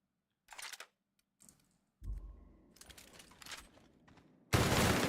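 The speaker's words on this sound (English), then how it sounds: "I can just use a light machine gun." A light machine gun firing in the video game The Outer Worlds: short clattering bursts of rapid shots with pauses between them, ending in one loud, dense stretch of fire.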